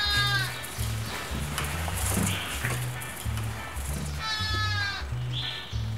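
Lambs bleat repeatedly, loud and close, with several high wavering calls overlapping over a low steady rumble on a farm where a giant rabbit roams among them.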